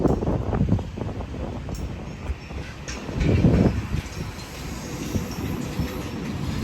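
A passenger train, an 8-car suburban set, rumbles at a platform of Sydney Central Station, with a low mechanical drone and swelling wheel and carriage noise; no one speaks.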